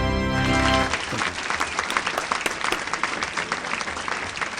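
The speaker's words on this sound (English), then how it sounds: "Let's bring a warm round of applause to David Swift" An audience breaks into applause to welcome an interview guest, starting just after a sustained musical tone cuts off; the clapping is brisk, dense and moderately loud, continuing steadily to the end.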